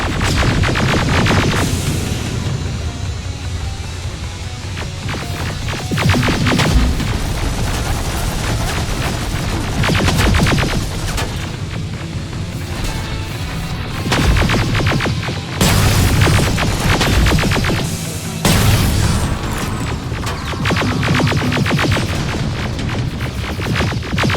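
Gunfire and explosions from the video game Terminator Resistance form a loud, continuous barrage, with rapid rattling shots layered over deep booming blasts and rumbling surges recurring throughout.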